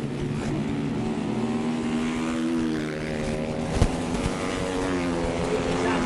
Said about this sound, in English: On that Honda, battle for second, we got Randy Trissel.